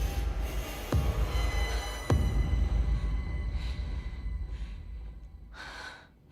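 Two sharp gunshots ring out about a second apart in the horror video game Alan Wake, each loud with a fast decay over a low rumbling background, followed by a few soft breathy sounds.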